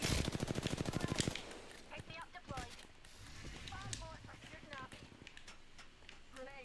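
Rapid automatic gunfire rattles in a fast, even burst during an Apex Legends match and then stops abruptly. Players talk over the scattered game sounds that follow, and no distinct grenade blast stands out.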